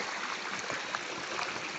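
A stream or small waterfall in the Aravalli hills rushes steadily, a dense, continuous hiss of flowing water close to the microphone with no pauses and no one talking.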